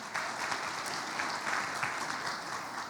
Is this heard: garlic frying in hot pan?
no